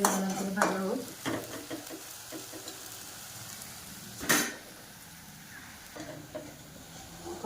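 Pitha fries on a tawa and gets flipped, with soft sizzling under sharp metal scrapes and clinks of a spatula against the pan, including one loud scrape midway.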